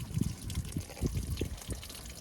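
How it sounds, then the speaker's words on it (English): Water trickles and splashes down an antenna line in an irregular patter of small drips and runs, fairly quiet and close. "that water's coming down, just running straight down the antenna line"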